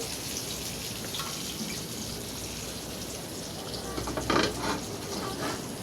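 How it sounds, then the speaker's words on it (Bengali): Pieces of fish frying in oil in a modest home kitchen, a steady broadband sizzle and hiss running throughout, with a slightly louder crackling burst near the end. "আপনারা দেখতে পাচ্ছেন কয়েক টুকরো মাছ কত সুন্দর করে তেল দিয়ে ভাজছে"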